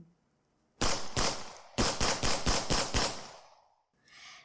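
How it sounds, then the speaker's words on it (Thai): A burst of rapid distant gunshots, roughly a dozen sharp cracks in two quick volleys, loud and echoing, followed by a short fading rumble. "เสียงปืนดังสนั่นนับสิบสิบนัด"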